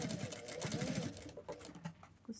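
A sewing machine backstitches fabric for a two-colour 3D face mask, giving a quick, close, rhythmic whirring burst of stitching that then stops and gives way to faint scattered handling noises.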